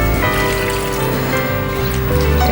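Water poured into a pan of chilli oyster sauce gravy for diced chicken, a steady continuous liquid stream trickling close and fairly loud, running the whole time without talk.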